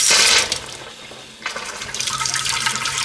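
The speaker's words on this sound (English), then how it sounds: "I want the water to get to the faucet" Water runs from a newly installed kitchen sink faucet, a steady hissing gush that dips briefly and then resumes strongly, close and loud.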